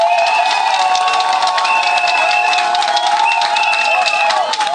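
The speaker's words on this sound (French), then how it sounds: "je vous demande encore de les féliciter en les applaudissant" An audience claps and cheers at a civic gathering honouring a mayor, with dense, continuous, loud applause and crowd noise throughout.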